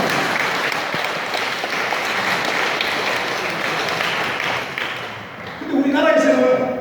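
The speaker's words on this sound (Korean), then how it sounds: "이 정도면 박수 하나 나와야 됩니다." Audience applause after a table tennis demonstration, steady broadband clapping held for several seconds before fading, with a voice beginning to speak near the end.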